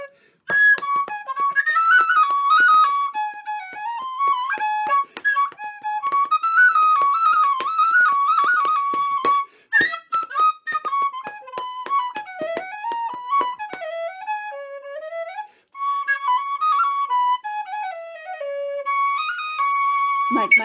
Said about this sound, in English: so we can hear the wonderful penny whistle